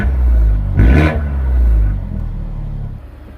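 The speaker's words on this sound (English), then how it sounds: "we'll give it a little rev" A Mercedes CLA 250 AMG engine idles with a deep rumble, blips once in a short rev close by, then settles back to a steady idle.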